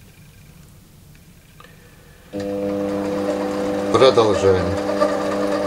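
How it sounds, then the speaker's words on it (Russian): A metal lathe is switched on after a quiet stretch, its motor jumping to a steady, loud hum with a brief rattling surge; someone says one word just before. "отводим наш резец и включаем станок"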